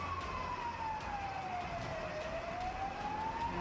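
A fire brigade vehicle's siren wails at the scene of a fire, rising and falling in a slow sweep, loud and steady over constant engine and street rumble; no one speaks.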